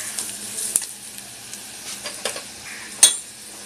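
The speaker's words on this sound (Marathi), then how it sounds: "कांदा आपला चांगला लाल होत आला आहे।" Onions frying in a pan for Konkani kulith pithi, a soft steady sizzle with a few sharp clinks of a spoon against the pan, close and fairly quiet.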